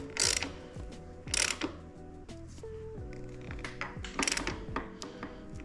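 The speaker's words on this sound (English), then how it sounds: "Now we gotta tighten this up and then tighten our pinch bolt up" Ratchet wrench clicking in quick bursts while tightening the pinch bolts on a new Ventus V1+ bicycle, with close metallic ratcheting sweeps repeating several times against light mechanical clatter.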